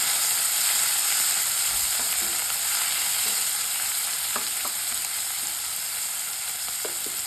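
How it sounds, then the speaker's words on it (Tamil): Steady, loud sizzling of tomato and onion frying in a hot pan, with occasional light scrapes of stirring and no talk. "தக்காளி சேர்த்து வதக்கணும்"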